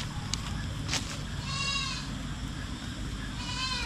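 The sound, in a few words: goats bleating on a farm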